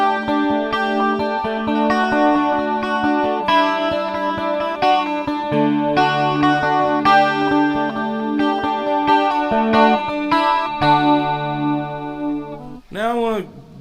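A 12-string guitar played through a chorus effect rings out in shimmering, layered picked notes and chords that flow continuously, ending on a brief warbling swell.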